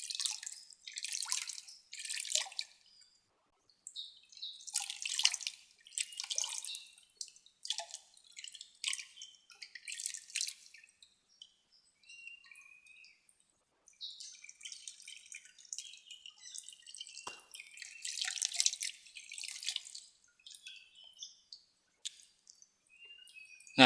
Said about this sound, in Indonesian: Setelah rendam baru dikasih air sampai penuh, sampai ngocor